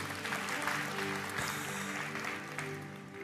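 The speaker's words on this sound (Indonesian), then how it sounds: "Tepuk tangan buat Tuhan Yesus." Congregation applause during a church sermon, a dense patter of clapping spread across a few seconds, with sustained music or voices humming underneath.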